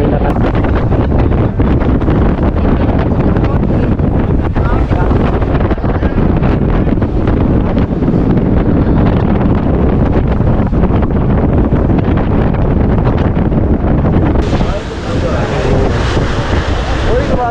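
Strong sea wind roars across the microphone on a boat off Rameswaram, with waves pounding and the hull tossing up and down, a loud, unbroken blustery wash throughout.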